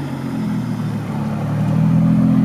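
A Toyota Supra's 2JZ engine with a single turbo and straight pipe drones in a low, steady rumble nearby, swelling slightly louder toward the end as the revs climb.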